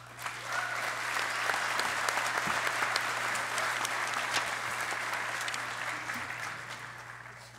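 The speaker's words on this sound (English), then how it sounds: "a nice round of applause" Sustained applause from a commencement ceremony audience, a dense, even wash of clapping across a large hall that holds steady for several seconds with a low hum beneath.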